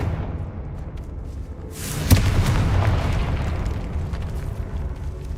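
A fiery blasting-spell explosion in Hogwarts Legacy lands as a sudden deep boom after a quieter lead-in, then trails off into a long rumbling roar of debris and crackle.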